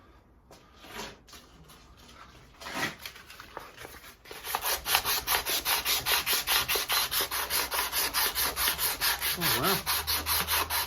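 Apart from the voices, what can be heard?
sanding hammer with Oakley Superflex cloth-backed abrasive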